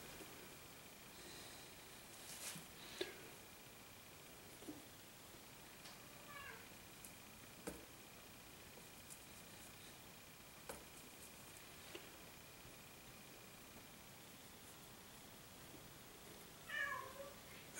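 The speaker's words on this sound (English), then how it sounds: "That's my cat making the noise back there, wanting attention." A few faint cat meows come from somewhere in the background of a quiet room, spaced out over time, with a louder call near the end.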